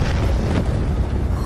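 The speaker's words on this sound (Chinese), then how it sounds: "后方怎么发生大爆炸了？" A big explosion in an animated fantasy series rolls out as a dense, loud, sustained boom filling the whole moment, with no voices over it.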